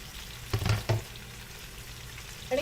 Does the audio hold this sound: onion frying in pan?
yes